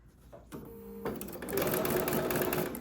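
Sewing machine stitching a curved quilt block, running in short bursts that turn into a steady, loud mechanical whir as the fabric is rotated with the needle down.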